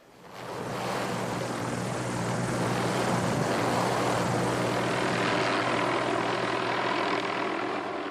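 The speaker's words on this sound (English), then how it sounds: "the best way to get into these mountains and look around is with a helicopter" A helicopter flies over rugged mountains, its steady engine and rotor roar rising quickly and then holding loud and constant throughout, with no talking.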